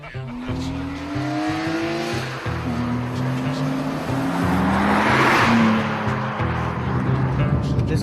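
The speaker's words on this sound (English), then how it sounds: "This car that we're driving in right now is a 98 M3." A 1998 BMW M3 revs hard through the gears and its tires squeal, heard from inside the car: the engine note climbs and drops repeatedly, and a louder screeching surge comes midway.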